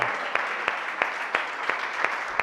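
Rhythmic unison clapping from a church congregation during a worship service, sharp claps landing in a steady beat against a broad wash of applause.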